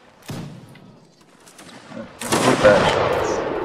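Musket volleys in a Mount & Blade Napoleonic Wars historical line battle: one sharp shot early, faint distant pops, then a loud, sustained crackling volley of many muskets firing together toward the end.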